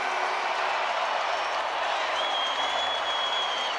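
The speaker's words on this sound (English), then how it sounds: "And the crowd goes crazy." Dense, steady crowd noise fills an NBA arena as fans cheer and clap after Denver's game-winning shot at the buzzer against Dallas, with a few whistles rising above the roar.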